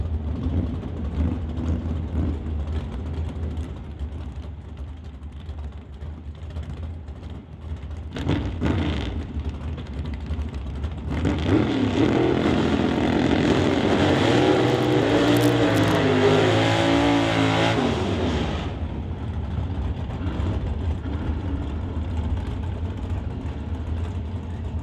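Drag race cars in the BC Super Shifters class at an NHRA Summit ET Series event: steady engine rumble swells into a loud, sustained roar of revving and launching midway, then settles back to a lower drone.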